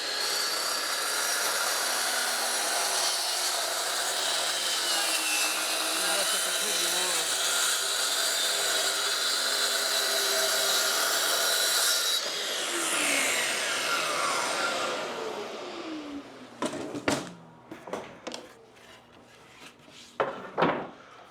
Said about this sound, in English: since this is a plunge saw, you can just plunge back right in